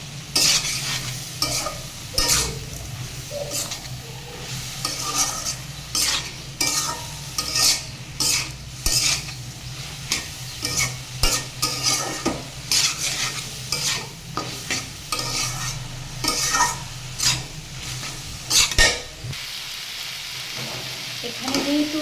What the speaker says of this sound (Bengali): এবারে নেড়ে চেড়ে আর একটু সময় ধরে ভাজবো।